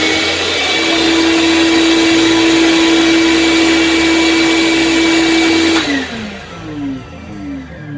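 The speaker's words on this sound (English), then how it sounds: "make sure when you're using the shop vac that the output, the exhaust of the vacuum, is not pointed in the direction of the heater." A RIDGID shop vacuum runs with a loud, steady whine and blowing exhaust rush for several seconds, then cuts off and winds down with a falling pitch.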